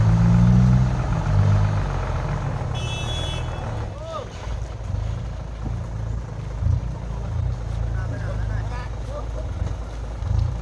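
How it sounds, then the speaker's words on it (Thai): A tractor engine rumbles steadily as it pulls, a loud, continuous low drone running the whole time, with a brief high beep and voices in the background. "เขาทำอย่างไรกัน รถไถดึงนะคะ"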